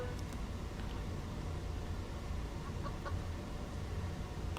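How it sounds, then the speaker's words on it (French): Chickens cluck in the horror video game Evil Nun 2, a steady fowl chatter with a few sharper calls over a dense, continuous game-audio bed at moderate level. "Ah, les poulets sont normales!"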